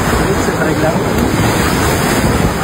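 Strong sea waves surge around a small fishing boat out at sea during a storm, a loud continuous roar of surf mixed with wind buffeting the microphone.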